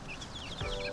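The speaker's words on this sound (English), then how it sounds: "These are my almost free-range chickens in here." Free-range backyard chickens in a planted food forest cluck and chirp in quick overlapping bursts, close and moderately loud, with a brief low thump partway through and no talking.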